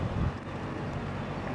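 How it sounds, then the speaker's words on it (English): Wind buffets a microphone outdoors at a live shot location in Blue Springs, a loud rushing gust at the start settling into a steady low roar, with no voices. "The weather is windy, but it's nice."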